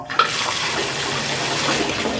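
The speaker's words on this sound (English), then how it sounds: "Put a little cold water in" Cold water runs steadily from a tap into a bathtub, a continuous close rushing splash with a small knock at the start and no talking.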